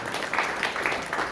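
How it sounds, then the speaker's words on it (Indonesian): A church congregation at a New Year worship service applauds, with dense, steady clapping for a brief moment. "Yang mau mendukung tepuk tangan dulu Pak."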